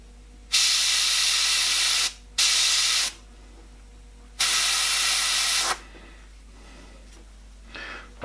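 An airbrush sprays paint for a horror portrait in three sharp, hissing bursts, loud and close, separated by brief pauses and followed by fainter short puffs.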